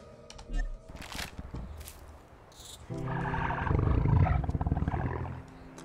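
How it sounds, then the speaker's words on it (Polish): A beast roars in the ELEX video game, a loud, rough roar swelling through the second half and then fading, preceded by scattered in-game clatter and effects. "Coś tu jest. Jakaś bestia."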